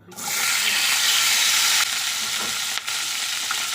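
Vegetable stems, potato and whole green chilies hit hot oil tempered with bay leaves, giving a loud, steady broadband sizzle that holds strong throughout, dipping briefly near the end as they are stirred.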